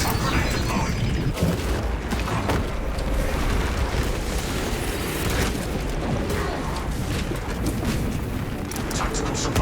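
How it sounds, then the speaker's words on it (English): Dense, loud battle din from the video game Warhammer 40K Space Marine 2 with a grenade blast among continuous gunfire, booms and crackling debris, all heavily layered and unbroken throughout. "Grenade deployed."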